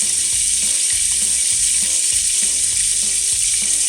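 Caramel for a honey and raspberry sauce bubbles and sizzles steadily in a pan over medium heat, a dense continuous hiss with repeated soft clicking knocks from the pan, no voices.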